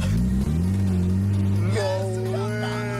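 A Mazda Miata engine drones at low revs while driving, the pitch holding steady then shifting upward after a downshift into first gear, with people talking over it.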